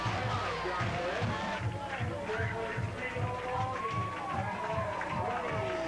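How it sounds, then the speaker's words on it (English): A crowd roars at a high school football game between John Glenn and Walled Lake Central, with a marching band's drums thumping a steady, evenly spaced beat under the continuous cheering. "the crowd just came alive, the band's alive"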